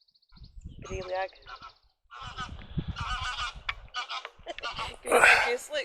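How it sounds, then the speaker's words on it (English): Greylag geese honk repeatedly in overlapping calls, fairly close, on an outing at Loch Katrine, while people talk over and between the calls. "They're geese. Grey lag."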